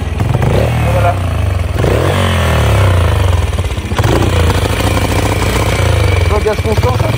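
Beta RR 125 four-stroke carburetted motorcycle engine held at constant throttle, a loud, steady, rough buzzing drone with clattering pulses, close up, with someone talking over it.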